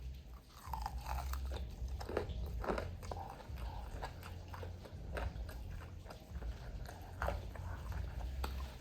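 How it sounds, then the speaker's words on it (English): Fried chicken wings being bitten and chewed up close, with repeated crisp crunches in an uneven rhythm over several seconds, fairly quiet overall and without talk. "It has the good crunch on it."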